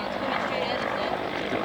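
A Gilla helicopter carrying a flare dispensing system lifts off at a test range, its steady broadband rotor and engine roar loud and continuous throughout.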